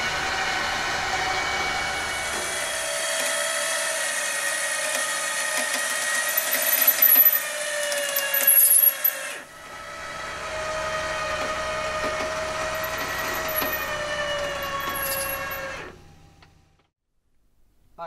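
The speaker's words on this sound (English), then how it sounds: "Winching." An off-road 4x4 vehicle's electric winch hauls on a double-line pull, a steady loud whine that dips briefly midway, then resumes and cuts off near the end, with no talking.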